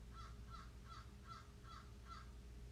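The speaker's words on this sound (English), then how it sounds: "hear the crow" A crow caws six times in an even, steady rhythm, each call short and a little distant, faint against a quiet outdoor hum with no voices.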